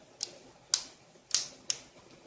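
Four sharp plastic clicks snap close by, spaced unevenly, as the back cover of a Xiaomi Redmi 2 phone is pressed into place.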